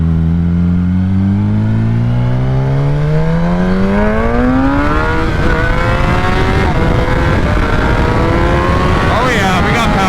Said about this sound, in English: the quick shifter is much faster. Downshifting is much faster right off the bat there.